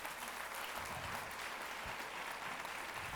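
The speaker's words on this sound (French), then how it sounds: "applaudissez chaleureusement, mesdames et messieurs" Warm applause from an audience at an awards evening in a cabaret-theatre, a steady dense wash of clapping heard at a distance and fairly faint.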